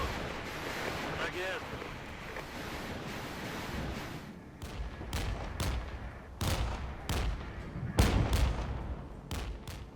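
Rocket artillery from RM-70 launchers in the video game Regiments, heard as a rough rumbling bed of battle noise broken after the first few seconds by a rapid series of loud, sharp launch blasts coming in irregular bursts.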